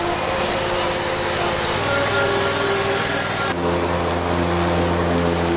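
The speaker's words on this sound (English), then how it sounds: "That lawnmower is never gonna be the same." A lawn mower engine runs loudly and continuously nearby, its pitch shifting slightly partway through as the motor changes load.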